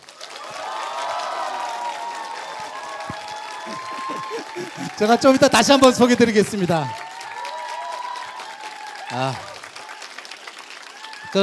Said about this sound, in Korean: 자, 뜨거운 박수로 맞아주십시오